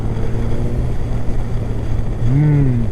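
A motorcycle rides along smoothly, its steady low engine drone and wind rush close and continuous, with a rising engine note near the end as it pulls with torque.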